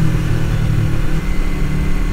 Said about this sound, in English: So I'm going to gear it down a little bit,